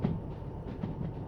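A locomotive hauling carriages in the Derail Valley train game rumbles along with a steady low drone and soft rhythmic thumps of wheels over rail joints, close and continuous.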